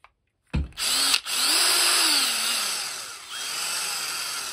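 A BAUER 20V cordless 3/8-inch right angle drill spins up with a sharp start, whines steadily at close range, cuts out briefly, then runs again with a shifting motor pitch.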